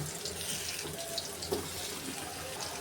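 Pumpkin pieces frying in hot oil in a wok, a steady close crackling sizzle with a hiss running throughout at moderate loudness.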